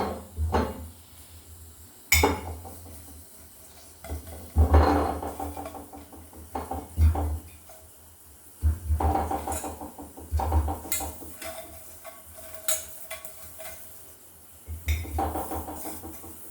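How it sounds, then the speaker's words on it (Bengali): Salted lemons go into a jar as pickle is made, with scattered knocks, clinks and thuds of fruit, glass and utensils at an uneven pace, close by and fairly quiet, with no voices. "লবণটা মাখিয়ে দিয়ে এবার এই জারে ভরে দিচ্ছি।"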